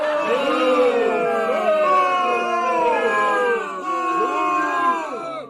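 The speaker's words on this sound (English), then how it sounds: "It's an unaimed boo." A crowd lets out a sustained, wavering boo, many voices overlapping in rising and falling howls, fairly loud and continuous with a brief dip near the end.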